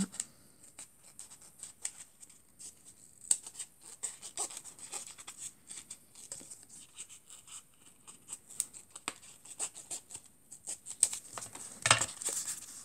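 Scissors cut through a sheet of craft foam for a koala figure, giving a steady run of soft, close snips and scratchy rustles with a few louder crunches.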